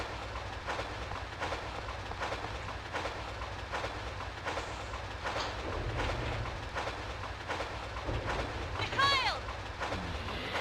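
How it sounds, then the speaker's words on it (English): A train runs in the Resident Evil 3 Nemesis video game, giving a steady rumbling roll with regular clickety-clack beats along the track, a brief metallic squeal near the end and faint speech underneath. "I got the train working."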